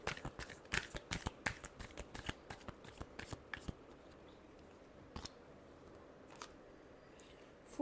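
Tarot cards are shuffled by hand in a quick burst of crisp riffling flicks, then fade to a few scattered soft clicks in a quiet room.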